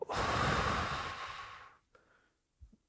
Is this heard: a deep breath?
yes